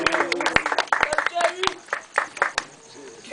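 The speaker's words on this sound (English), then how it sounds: "Give him a round of applause" A burst of clapping and scattered applause from a small crowd, with voices and cheering mixed in, rising and fading over a few seconds.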